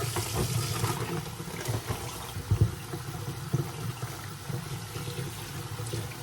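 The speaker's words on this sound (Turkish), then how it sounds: "Ben şu sosisleri yıkayayım." Tap water runs steadily over sausages being rinsed in a kitchen, a constant close splashing stream with a few louder knocks and splashes as the sausages are handled under it.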